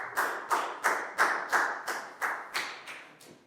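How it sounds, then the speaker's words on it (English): About ten sharp hand claps in an even rhythm in a Year 4 classroom, close and fairly quiet, each with a brief decay, slowing slightly toward the end. "High five and a big round of applause for Bangpon, please, guys."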